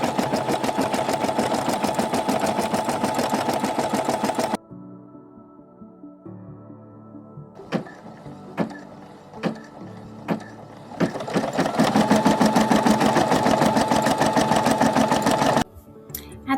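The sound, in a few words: embroidery machine stitching a logo in thread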